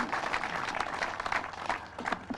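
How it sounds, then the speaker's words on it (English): Audience applause at a community commemoration with parents and youngsters, a sustained patter of many hands clapping, moderately distant and fairly quiet, thinning slightly toward the end. "So give them another big round of applause."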